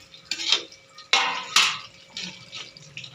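A metal lid lifted off a pot of fish curry, a few sharp clanks and scrapes close up, separated by quiet moments with light clinking.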